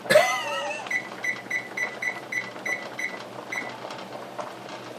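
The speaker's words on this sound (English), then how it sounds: "Set the dang timer" A kitchen timer is set with a quick run of button chirps, then beeps about ten times in a steady, evenly spaced rhythm, close and clear over faint room hum.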